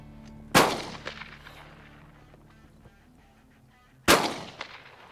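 An over-and-under shotgun fires at clay targets, two loud, close blasts about three and a half seconds apart, each trailing off in a decaying echo over quiet outdoor background.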